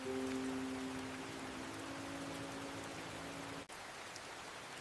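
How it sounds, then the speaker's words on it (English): Steady rain falls outdoors at night outside a gala, a dense even hiss of drops throughout with a low tonal hum early on, at moderate level, briefly dipping near the end, with no talk. "Please, let's get them inside, out of this rain."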